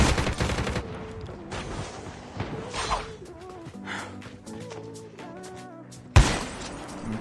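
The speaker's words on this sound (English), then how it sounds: "how many fucking people are shooting at me?" Gunfire from several shooters in a multiplayer shooter game, rapid bursts and scattered shots overlapping at varying distances with a sharp loud crack near the end.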